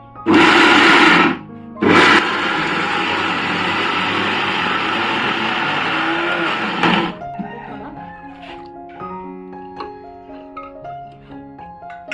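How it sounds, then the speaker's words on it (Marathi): A mixer grinder grinding coconut for coconut milk whirs loudly in two short bursts, then runs steadily for several seconds before cutting off, leaving quiet clinks. "मिक्सर लावून घेते"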